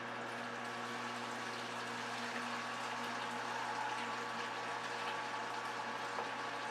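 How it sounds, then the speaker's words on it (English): A steady whirring pump moving hot water from a kettle into a mash tun, water rushing through it, continuous and even, with no voices. "I just pump it out of the water I heated up in my kettle"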